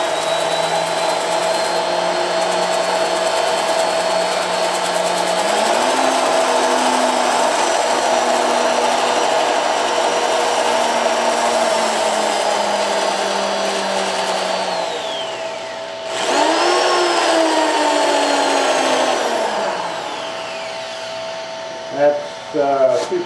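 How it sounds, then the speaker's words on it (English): Power sanding a wood turning on a lathe with 220 and 320 grit sandpaper gives a steady, fairly loud whirring hiss that runs almost continuously, dipping briefly near the end before resuming. "by power sand, I'm not getting a buildup on one place on the sandpaper"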